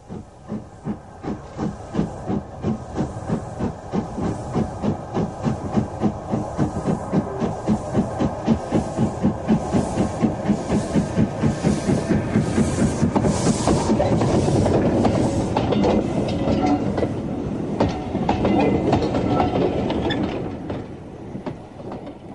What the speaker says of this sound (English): we see the jinty leaving eastbound